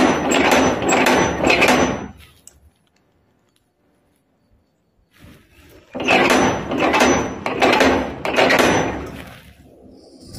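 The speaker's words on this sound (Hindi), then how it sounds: "यहाँ जो मैं हर बार दरवाज़ा बजा रही हूँ" Knocking on a door at night: two bursts of loud, repeated banging thumps separated by a few seconds of near silence, close and forceful.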